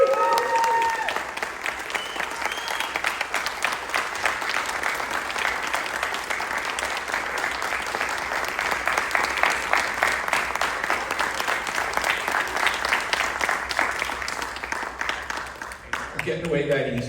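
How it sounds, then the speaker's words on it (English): Sustained applause from a school board meeting audience honoring Minisink Valley retirees, steady dense clapping for about sixteen seconds with some voices mixed in before it tapers near the end. "Let's give them a round of applause and ovation that they truly deserve"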